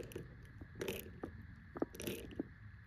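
A ratchet working a thread-locked roof rack bolt on a Toyota 4Runner TRD, giving a few faint, separate clicks and metallic ticks with quiet gaps between them.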